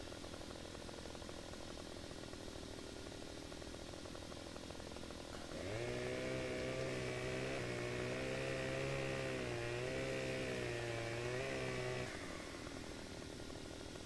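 A chainsaw revs up partway through and runs steadily for several seconds while cutting a tree, loud and close over a constant low hum before it cuts off.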